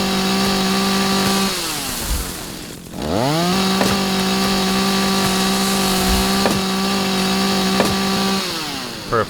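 In the Rising World video game, a chainsaw cuts trees with a loud, steady whine that drops off, briefly cuts out, then revs back up and runs on, with a few sharp knocks along the way.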